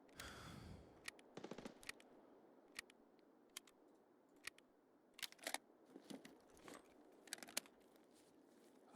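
NL545 gunfire in the video game Escape from Tarkov comes as faint, scattered sharp cracks and short clustered bursts against a quiet background.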